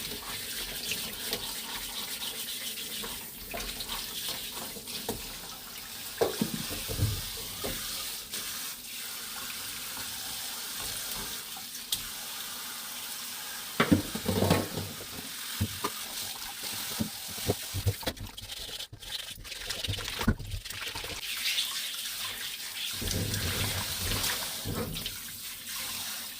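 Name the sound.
radish being washed under running water with a brush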